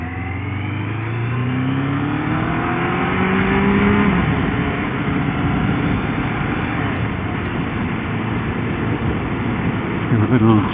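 Car engine revs in first gear up past 4,000 RPM at about 40 mph: a loud droning whine rising steadily in pitch, then holding at a strained high level with road noise, heard from inside the car.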